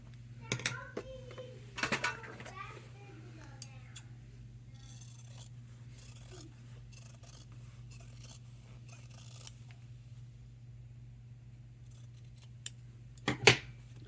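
Scissors snip away excess backing material from a handmade fabric wallet, a few short cutting sounds over a steady low hum, with faint rustling between cuts.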